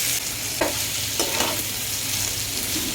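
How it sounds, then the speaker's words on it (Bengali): Potato peels, chilli, hilsa fish and chopped onion frying together in a little oil, a loud constant sizzle with a few scraping stirs of a spatula across the pan, close up and unaccompanied by speech. "তো কিছুক্ষণ এটাকে নাড়াচাড়া করবো যেন পুড়ে না যায়।"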